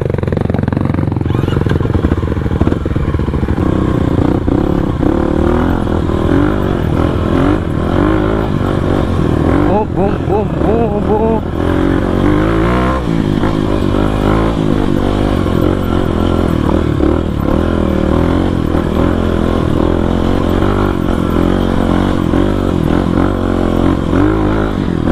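A supermoto motorcycle climbs a mountain trail toward Puncak Upas on Tangkuban Parahu, its engine droning and revving loudly and continuously with rattling clatter, while riders talk over the noise.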